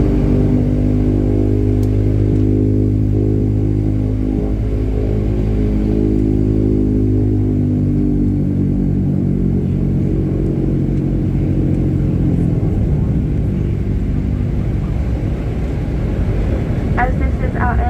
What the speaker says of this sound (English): it's necessary for the pilots to perform some brief engine and propeller checks prior to entering the runway